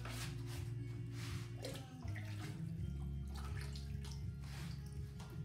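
Glaze pours steadily into the inside of a dry, raw pottery piece up close, a continuous gurgling flow with small splashes and shifting tone.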